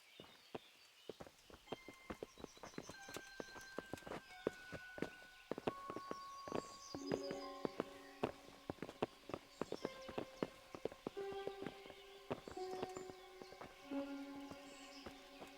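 Horses' hooves clip-clop at a walk in the medieval game Kingdom Come: Deliverance, a steady run of soft hoof strikes over quiet musical tones, with no voices.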